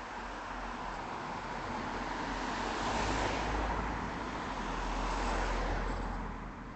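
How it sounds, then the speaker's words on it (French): Cars roll past beside a road tunnel, their broad rushing swell rising and fading twice over a constant low roadway hum, fairly distant and without voices. "les voitures peuvent passer tout à côté"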